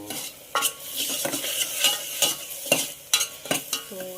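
Onions stirred and fried in a pan: a steady sizzle broken by repeated scraping stir strokes and occasional clinks of a spoon against the metal, close and fairly loud, with no talking.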